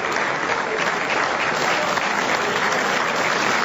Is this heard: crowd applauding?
yes